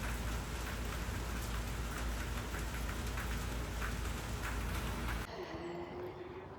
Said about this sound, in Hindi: इतनी तेज़ मूसलाधार बारिश हो रही थी